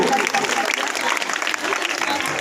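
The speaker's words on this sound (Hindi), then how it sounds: "जोरदार तालियां बजाएं इस बिटिया के लिए" A crowd at a New Year and martyrs' day village program applauds loudly for a young girl who became a village sarpanch; dense, sustained clapping with faint crowd murmur.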